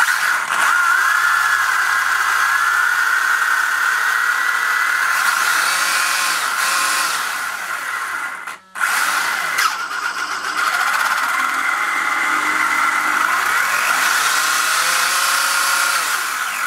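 The electric motor of a Traxxas Slash RC car whines loudly and steadily, its pitch wavering slightly, cutting out for a moment before spinning back up.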